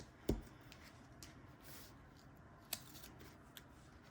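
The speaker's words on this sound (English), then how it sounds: "So let me just cut a little bit here." Scissors snip tape with a sharp, close cut early on, followed by a couple of fainter snips and light rustling in a quiet room.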